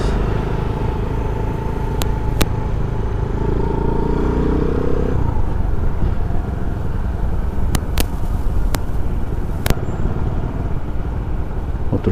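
A Bajaj Rouser 180 motorcycle riding along, its engine a steady droning rumble with road noise throughout, a few sharp clicks or clatters breaking through now and then.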